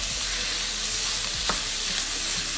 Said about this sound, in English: And now I'm adding broccoli.